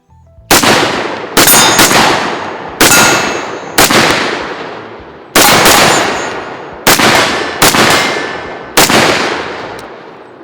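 Loud gunshots at an outdoor shooting range with a metallic ring after each, eight sharp reports at irregular intervals, each with a decaying echo tail.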